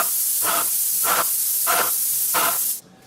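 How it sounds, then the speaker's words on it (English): A Graco ProStep airless sprayer spraying out leftover paint gives a loud, steady hiss with four rhythmic pulsing surges, then cuts off abruptly near the end. "we're just going to spray the rest of the paint out and wait for the water to come through"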